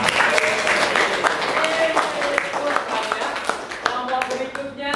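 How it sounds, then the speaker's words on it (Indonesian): A classroom group claps for classmates who have just presented, with loose, uneven handclaps close by and voices talking over the clapping. "beri tepuk tangan kepada teman kita"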